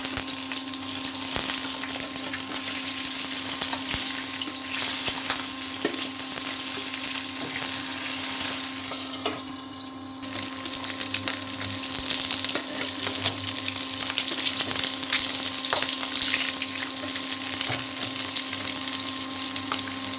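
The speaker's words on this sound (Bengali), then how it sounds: "এবার এগুলো একটু ভেজে নিতে হবে। উল্টো পাল্টে দিতে হবে।" Boiled eggs fry in oil in a pan with a loud, continuous sizzle, broken by a brief dip as they are turned over, then the crackling resumes at full strength.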